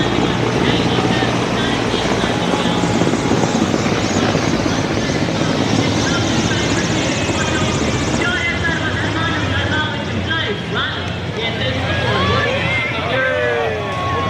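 Indian Air Force Mi-17 helicopters fly over a Republic Day parade rehearsal, their continuous loud rotor drone dominating, with crowd noise and voices mixed underneath.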